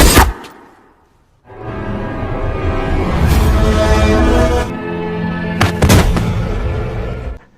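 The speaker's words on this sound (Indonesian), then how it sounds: "Yas datang dan tak banyak bicara langsung menembak Rudra" A gunshot in a tense film scene as an agent fires on a man during an argument with a minister: a sharp, loud crack at the opening, then a dense stretch of score or noise, with further sharp bangs near the end.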